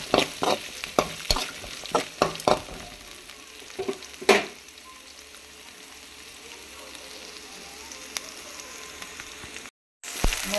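Onions and chillies sauté in a pan for sundal, a steady sizzle broken by sharp scraping stirs in the first few seconds, then a softer continuous fry with a brief dropout near the end.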